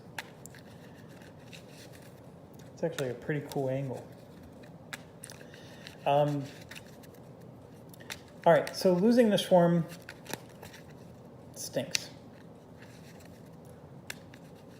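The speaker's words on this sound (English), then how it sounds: "So I'm going to shuffle real quick tail cards." Cards for the Skies Above the Reich board game shuffled by hand at a table: several short bursts of crisp riffling and flicking spread across the stretch, close by, with someone talking in between.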